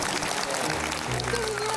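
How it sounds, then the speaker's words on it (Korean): A studio audience at a talk show claps in a short burst of broadband applause, fairly close and filling the whole moment. "자, 박수."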